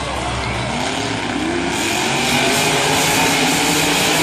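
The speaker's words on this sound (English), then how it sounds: "wow, this truck is loud." A Monster Jam monster truck at a 2015 San Diego stadium event roars with a loud, sustained engine drone that stays steady and swells slightly toward the end, filling the whole stretch.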